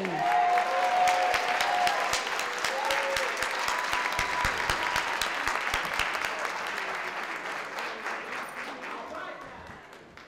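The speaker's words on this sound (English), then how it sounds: "A warm round of applause for Miss Amy Jackson." A warm round of applause from a storytelling-night audience as a performer is welcomed to the stage, full and close at first, then gradually thinning and fading, with some voices mixed in.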